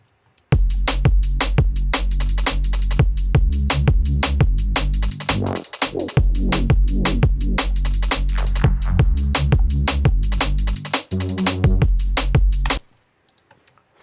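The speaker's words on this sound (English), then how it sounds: "So now let's play all the bass and the drums together." Layered electronic bass and drums play together in a dense, driving loop, with punchy kicks, crisp percussive hits and a thick bass line running steadily for several bars before stopping abruptly.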